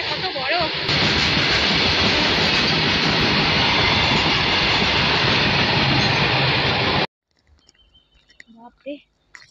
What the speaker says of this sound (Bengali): পুরো ট্রেনটা এতক্ষণে গেল